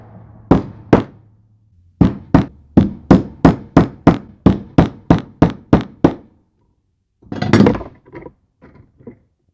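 A hammer drives a center punch into metal to mark holes before drilling. Two sharp strikes are followed by a steady run of about ten evenly spaced, close, ringing blows, then a few softer, irregular knocks after a pause.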